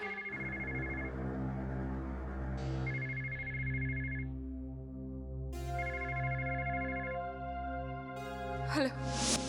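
An electronic telephone ringtone plays through an incoming call, a repeating tonal melody in short phrases with pauses, fairly soft and alone, with a brief gasp-like sound near the end.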